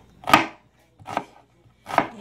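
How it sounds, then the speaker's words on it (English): Three separate, sharp knife chops on a cutting board while cutting onions, evenly spaced about a second apart, close and crisp, with quiet gaps between and no talking. "While the vegetable is boiling, I'm just chop my onions."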